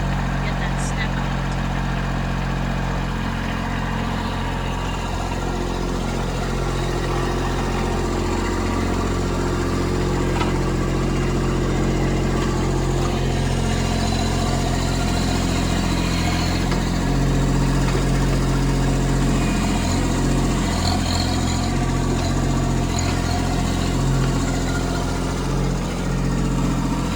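A Kubota B2601 compact tractor engine runs steadily at a low, even drone while its forklift blades shift a step, heard close, with a voice speaking over it.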